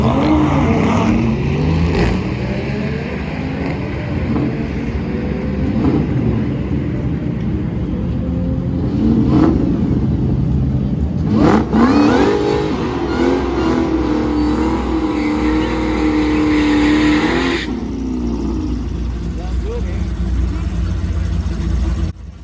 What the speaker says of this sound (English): Let's see if it'll do a burnout without wheel hopping.